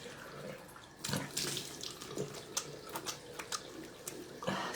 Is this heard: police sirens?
no